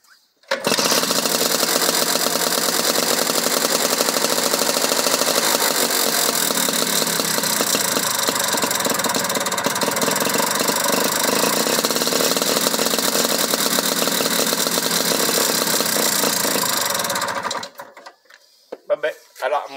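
A Vespa 50 L scooter with a freshly fitted engine runs for about seventeen seconds as a loud, buzzing small-engine drone at close range, then cuts off abruptly, leaving quiet rustling.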